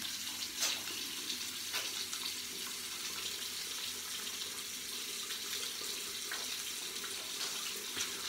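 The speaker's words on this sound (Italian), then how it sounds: "Ci sciacquiamo un attimo, ci laviamo la mano" Tap water runs steadily into a sink while hands are rinsed clean of Proraso shaving oil during a traditional shave, a close, continuous hiss and splash with small splashing variations, no talk.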